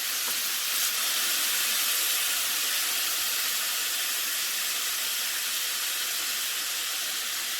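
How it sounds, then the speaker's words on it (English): Flank steak sizzles in a very hot skillet, giving a continuous, even hiss that stays loud and steady from start to finish with no voices. "Okay, so the flank steak has been cooking for about 6 minutes"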